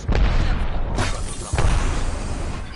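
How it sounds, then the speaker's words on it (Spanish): Frag grenade detonations in the Apex Legends video game: deep booms and crashing bursts, several hits within a few seconds, loud and close amid other gunfight noise. "Granada de fragmentación lanzada."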